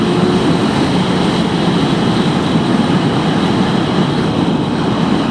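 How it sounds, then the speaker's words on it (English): A 2003 Honda 954 Fireblade sportbike ridden on the road, its engine a loud continuous drone blended with heavy wind rush, steady in pitch and level without pause. "This is my 2003 954 Fireblade."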